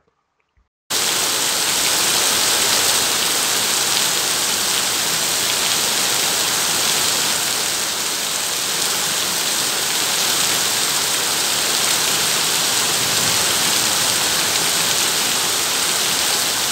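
Heavy monsoon rain pours down steadily in Valsad district, Gujarat, a dense, loud hiss of falling water that starts abruptly after a moment of silence and continues unbroken.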